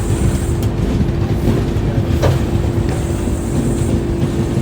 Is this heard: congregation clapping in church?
no